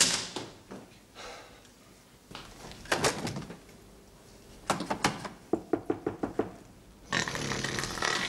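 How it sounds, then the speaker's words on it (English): Knocking on a hotel room door: bursts of sharp raps come in uneven groups, including a quick run of about seven knocks, between quiet gaps, with a rustling noise at the end. "I'm not having you knocking on my door in the middle of the night."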